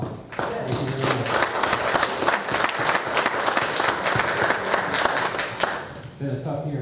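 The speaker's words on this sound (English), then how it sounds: "You do deserve applause." Steady applause from an audience at a village board meeting, loud and dense clapping sustained for several seconds before tapering off, with some voices mixed in.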